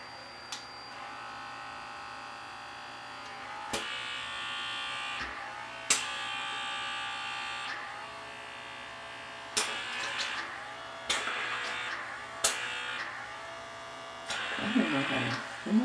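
Vanity Planet facial spa device buzzing steadily with a high electric whine, pitch and loudness jumping as it presses against skin and catches suction, several brief clicks and shifts throughout.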